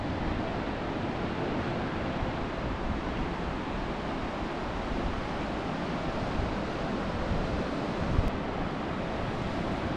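Big ocean surf on the southern Oregon coast at low tide makes a constant, rushing broadband roar mixed with wind noise, with no voices over it.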